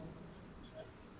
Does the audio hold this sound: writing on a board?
yes